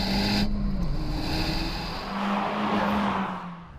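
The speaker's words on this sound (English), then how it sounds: "that's the sound from that new exhaust" Honda Civic Type R fitted with a new exhaust, a loud droning engine note that holds steady, dips briefly and then rises again, heard close up from inside the car.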